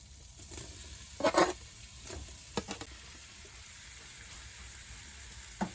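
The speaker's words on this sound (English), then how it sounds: "Got me some butter going. I'm gonna go ahead and drop that rabbit in there." Rabbit meat dropped into hot butter in a pan sizzles quietly and steadily, with a few sharp clatters and spatters from stirring and the pan.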